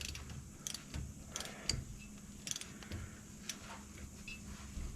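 A ratchet on a short extension tightens the front differential plug on a 2013 Jeep Wrangler JK, giving quiet repeated clicks and small creaks in short bursts close by, with no talking.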